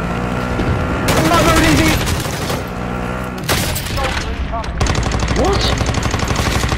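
Loud bursts of automatic gunfire and booms from a Call of Duty: Warzone Plunder match crackle in repeated rapid volleys, with players shouting and talking over the shooting.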